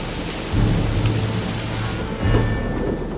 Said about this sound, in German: Der Sturm krachte und erschütterte sogar den kräftigen Berg und weckte den Hirten.